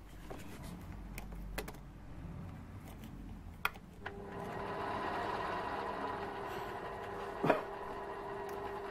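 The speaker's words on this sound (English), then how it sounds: "You may notice the lathe is turning backwards, and there's a parting off blade upside down." A metal lathe turning backwards with an upside-down parting-off blade gives a steady low mechanical hum and faint whirr. A few sharp clicks come first, and the tone rises slightly near the end with a brief scrape.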